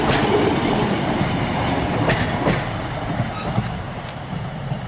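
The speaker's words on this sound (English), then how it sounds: "Yep, it was the Leeds train." A Leeds train rumbles past nearby on the East Coast Main Line at Grantham, a steady loud roar of wheels on rails with a few sharp clacks, easing slightly toward the end.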